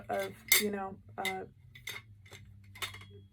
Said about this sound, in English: And my clean silverware out of the bowl goes here.